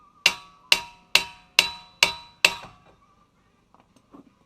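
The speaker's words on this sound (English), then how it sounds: "Just give it a couple of good whacks." Six evenly spaced, loud metallic hammer whacks against a factory brake rotor on a Chrysler 200, each ringing briefly before the next, followed by a few faint clinks.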